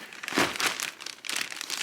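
Plastic packaging on a Maxton Design V2 front lip splitter for a Supra crinkles and rustles in a few quick close handling bursts.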